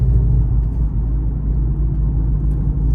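Manual car engine accelerating in third gear after a shift, a loud, low, steady rumble with a smooth whirring drone throughout and no talk.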